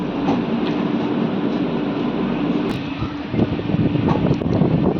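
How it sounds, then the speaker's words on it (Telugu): A superfast express train pulls out of Odela station, its steady loud rumble and rattling wagons filling the whole stretch, with faint clicking of wheels over rail joints and a brief louder clatter near the end. "ఓదెల నుంచి మన ట్రైన్ బయలుదేరింది"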